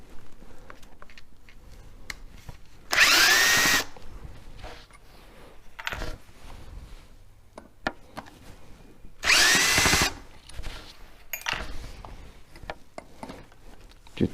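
A power drill driver backing screws out of a log for a bowl project, two loud whirring bursts of about a second each with quieter handling and knocks on the wood in between.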